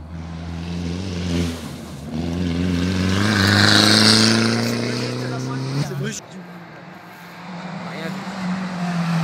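A rally car at the 2019 Rallye de Chautagne in Savoie roars past close by at speed, its engine note climbing and then falling away over several seconds while spectators talk.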